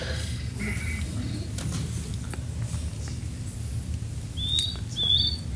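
A recorded kingfisher song plays back over a hall's low rumble: a few short, high, sharp chirps arriving near the end after a stretch of background noise.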